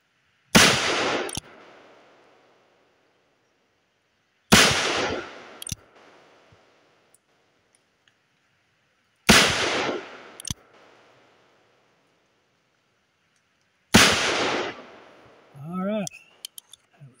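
Four loud, sharp gunshots from a Cimarron Thunderer .357 revolver at an outdoor range, spaced about four seconds apart, each with a short decaying echo. A few faint clicks and handling noises follow.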